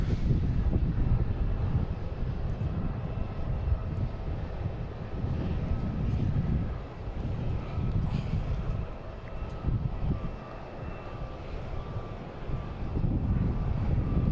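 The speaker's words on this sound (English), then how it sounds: "Here's a JetBlue from Key West." A JetBlue airliner arriving from Key West at Boston Logan gives off a broad, steady jet roar heard from a distance, mixed with gusty wind buffeting the microphone and a low rumble that swells and fades slightly.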